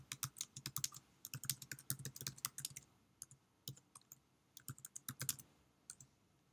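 Typing on a computer keyboard while entering text into a web form, heard as bursts of quick, close keystroke clicks with a short pause in the middle, no voices.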